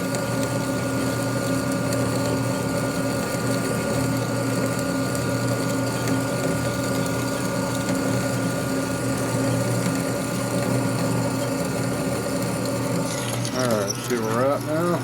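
A drill bores steadily into a 1992 Harley-Davidson 80 ci Evo Softail motor case in a workshop, a continuous whirring mechanical tone holding for many seconds before a brief clatter near the end.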